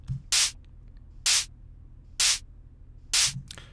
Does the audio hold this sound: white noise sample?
yes